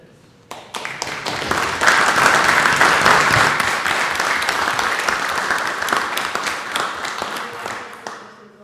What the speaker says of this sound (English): I really think we should give them a round of applause for their hard work on this.